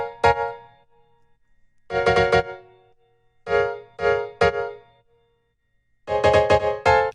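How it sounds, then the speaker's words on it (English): Piano-like synth layer in an electronic track, playing short harmonic chord stabs in bursts separated by silence, clear and alone with no voices. "One of them is a piano."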